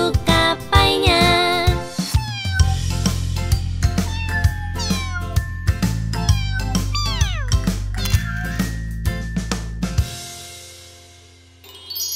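Animated cat meows in a children's song, a string of bright, rising and falling meows over music with tinkling chimes and a bouncy beat, loud and close, ending as the music drops away.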